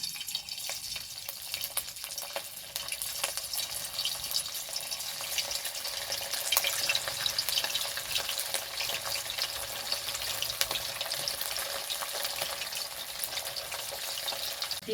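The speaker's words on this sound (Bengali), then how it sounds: "তেলটা গরম হয়ে গেছে, এখন আমি একটা একটা করে তেলে চিকেনগুলোকে দিয়ে দেবো।" Chicken pieces frying in hot oil for chili chicken, a steady, dense sizzle and crackle that holds evenly throughout with no talking.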